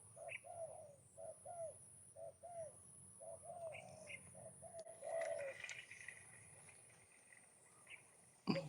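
A wild dove coos repeatedly from a tree, soft rhythmic paired hoots at moderate distance over a hum of insects and background noise, with a faint knock near the end.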